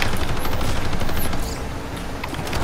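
Rapid continuous automatic gunfire from an aircraft's nose gun in a multiplayer video game air squad, loud and sustained, easing slightly partway through with no talk.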